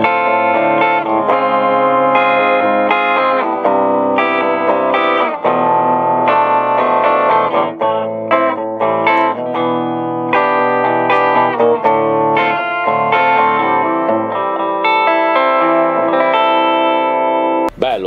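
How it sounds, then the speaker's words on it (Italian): Squier Sonic Stratocaster HT electric guitar on a clean tone with reverb and a touch of delay, played as continuous chords and melodic lines, close and steady. "vi faccio sentire un po' il suono pulito. Un po' di reverbero e un filino di delay"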